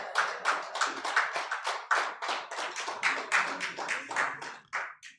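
Audience applause at a live business television event: close, crisp clapping from a small group, coming in uneven bursts with slight swells and dips, then tapering off near the end.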